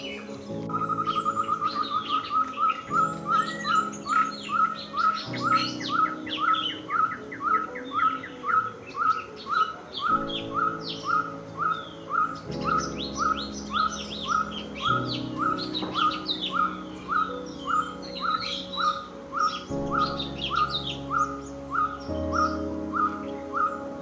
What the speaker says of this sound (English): Yellow-fronted barbet, common breeding resident bird which commonly heard than it is seen.